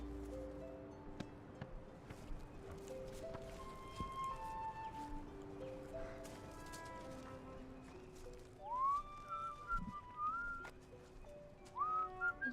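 A person whistles a melody in short rising and gliding phrases, moderately close, over a soft background of steady tones and faint clip-clop sounds.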